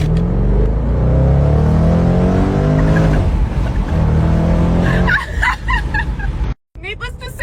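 A loud engine revs and drones with rising pitch, close and sustained, then settles as a voice and a squeaky gobbling noise come in near the end.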